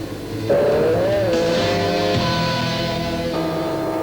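A 1994 Formula One race car powers flat out in fifth gear out of a corner, its loud, close, high-pitched engine note holding and rising steadily with no talk.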